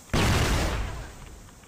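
Grenade exploding in a multiplayer shooter game, one sudden loud blast with a deep, broad rumble that fades gradually over more than a second.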